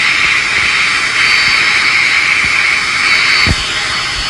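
Boeing 747 jet engines at increased throttle in a flight simulator game, a loud steady roar with a bright whine that holds for about three and a half seconds before a thump and a slight drop.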